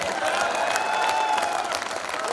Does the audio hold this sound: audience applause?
yes